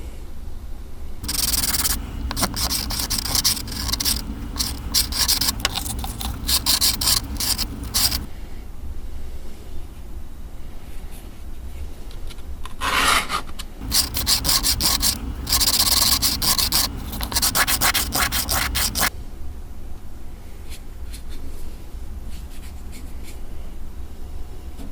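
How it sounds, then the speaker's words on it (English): Steady back-and-forth rasping of 180-grit sandpaper shaping a scraper tool during restoration, in two long bursts with a short pause, close and fairly loud. "This is the basic sanding with 180 grit to shape it"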